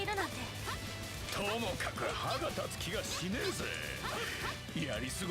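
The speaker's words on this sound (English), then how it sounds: "wherever these dinos spawn, you'll want to be behind them, or else they'll bark at you" Dinosaur creatures in the action RPG Ys VIII: Lacrimosa of Dana let out repeated sharp bark-like calls and yips. Game music, impact effects and hits from combat run underneath them, and the whole passage stays busy and loud.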